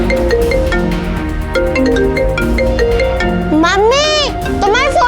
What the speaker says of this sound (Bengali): তোমার ফোনটা বাজছে